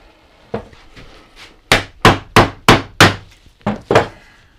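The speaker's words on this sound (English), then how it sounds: "I'm just going to take a big hammer and knock it down" A big hammer strikes a length of poly pipe to drive a steel bicycle crown race down the fork steerer, giving about ten sharp, hard knocks, a few lighter taps, then a firm run of loud blows in quick succession.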